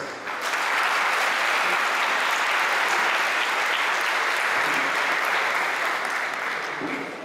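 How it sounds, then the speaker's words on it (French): An awards-ceremony crowd gives sustained, even applause for the 2012 sports licence holders, swelling quickly and tapering slightly near the end. "Alors je vous invite à applaudir tous les licenciés de 2012 qui ont fait que les compétitions existent."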